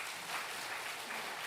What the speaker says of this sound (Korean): 우리 박수 부탁드리겠습니다.